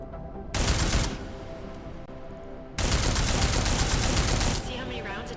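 Gunfire in the video game Deus Ex: Mankind Divided comes in two long, loud, sustained bursts of rapid shots, separated by a brief quieter pause, close and dominant.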